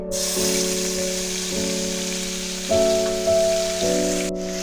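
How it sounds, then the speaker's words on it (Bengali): Ginger and green chilli paste fries in white oil with a steady sizzle hissing throughout, with a sustained droning tone that steps in pitch running underneath. "আদা আর লঙ্কাটাকে ভালো করে ভাজা ভাজা করে নেব"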